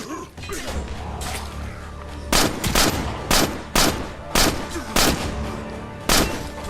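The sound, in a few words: gunfire in video game State of Decay Lifeline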